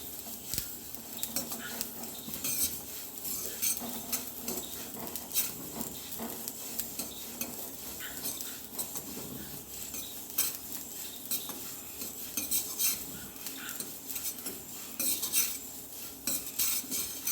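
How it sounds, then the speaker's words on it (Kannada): Sesame seeds roasting in a pan over medium to low heat, crackling and popping steadily while a spoon scrapes and clinks against the metal, a dense close patter throughout with no talking. "ಹಾಕಿದ ತಕ್ಷಣ ಹೀಗೆ ಚಟಪಟ ಅಂತ ಹೇಳಲಿಕ್ಕೆ ಶುರುವಾಗಬೇಕು"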